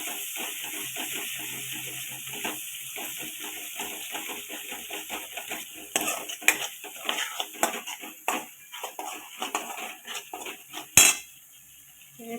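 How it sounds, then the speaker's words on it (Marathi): A ground masala paste sautéing in oil in a pan for a Khandeshi-style drumstick curry, with a spoon repeatedly scraping and clinking against the metal and a faint sizzle underneath, growing busier toward the end. "ते चांगलं छान असं परतून घ्यायचं तेल सुटेपर्यंत"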